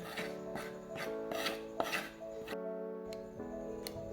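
Parsley, dill and onion being chopped for a Kupetsky salad, a series of regular knife strokes on a board with a faint rasp between them, close and fairly quiet, no one speaking.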